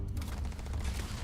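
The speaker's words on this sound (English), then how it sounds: "Now this is me firing for no reason." Rapid gunfire from a weapon in the space game Starfield, a dense burst of shots running steadily through the short moment at full loudness.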